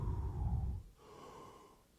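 A person yawns with the mouth nearly closed, a deep, soft, breathy inhale through the nose lasting under a second, followed by a quieter, gentle exhale.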